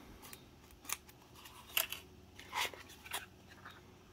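Opening the cardboard box of a Flipper Zero: a few sharp, close tearing and snipping sounds, spaced irregularly, in a quiet room with no talking.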